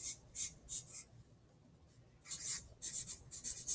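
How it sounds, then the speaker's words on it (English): Blue marker squeaking across a writing surface in short rhythmic bursts of strokes, a pause in the middle, then more quick strokes, close and fairly quiet with no voices. "And I'm going to start writing."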